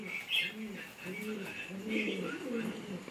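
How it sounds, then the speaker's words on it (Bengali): A single male pigeon coos close by, soft and low, in a steady series of rolling calls, with some higher chirps and background noise mixed in. "এটা একটা সিঙ্গেল নর পায়রা"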